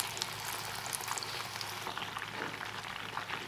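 Fish coated in gram flour fries in hot oil over a low flame, giving a steady, soft crackling sizzle with fine popping throughout, no voices.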